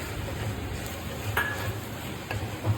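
Tomatoes cook with onions in a pan for homemade chicken biryani, giving a low sizzle under scattered scraping and clinks of a spoon stirring against the pan, with a few louder knocks, close up and with no talking.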